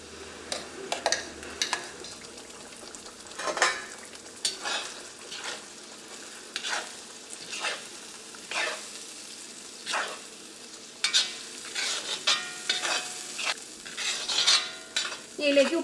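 Cooked, ground tomato paste for tomato pickle fries in oil while a spoon stirs it. A soft steady sizzle runs under repeated close scraping and tapping strokes against the pan. There is no talking.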